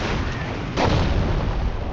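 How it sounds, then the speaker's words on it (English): A Panzerschreck anti-tank rocket fires at a Sherman tank in the Company of Heroes video game, a single sharp boom that rises out of a constant loud battle rumble. "Panzerschrecks. They're targeting the Sherman's rear armor."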